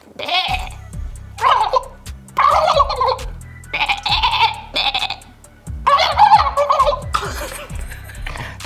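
A person imitates a turkey gobble and sheep bleats in repeated loud, close vocal bursts with short gaps between them, as if trading back and forth.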